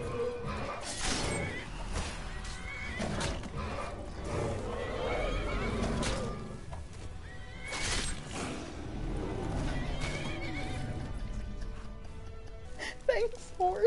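Horse whinnies repeatedly in a Skyrim-style fantasy video game during a fight, with clip-clop hooves, crashes and game effects over a busy background, while a player talks over it.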